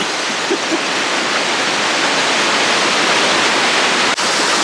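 Steady, loud rushing of a waterfall, a dense continuous roar filling the whole clip with no other sounds.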